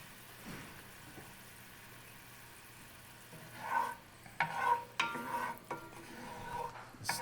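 A spoon stirs a pan sauce of stock and heavy cream in a cast iron pan after searing New York strip steaks. A faint low simmer runs underneath, with soft scraping strokes growing more distinct in the second half.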